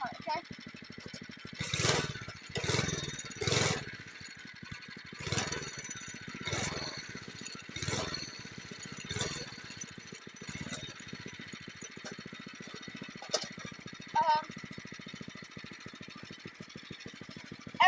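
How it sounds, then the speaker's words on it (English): An off-road go-kart engine is revved in a series of short bursts, each a rasping roar that rises and fades back to a rough idle, repeated several times. "I'm gonna do 4 more revs for you."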